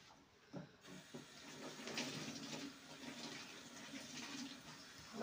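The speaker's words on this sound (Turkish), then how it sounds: "Bulaşığımızı yıkayacağız." Tap water runs steadily into a kitchen sink for washing dishes, a continuous close splashing hiss that starts after a brief quiet moment and holds on without speech.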